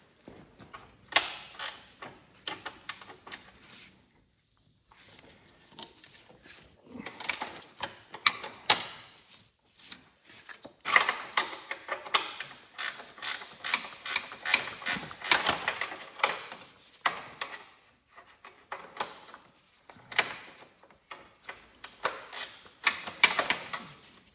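Metal clicks and creaks from a wrench working a 17 mm bolt loose on a Cub Cadet 1782 Super garden tractor during engine removal, coming in irregular bursts with short pauses, close and moderately loud.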